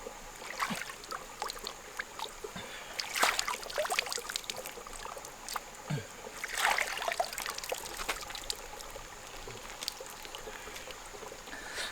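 A forest stream trickles and burbles steadily near an old Kakatiya-era fort, with soft splashes and gurgles rising and falling over a continuous watery hiss.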